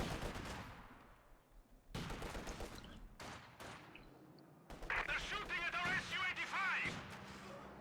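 Machine gun bursts and heavy gunfire in the Company of Heroes 2 real-time strategy game, a 1v1 battle between German Ostheer and Soviet armies, with dense overlapping shots and blasts, loud and continuous, with short gaps of near silence.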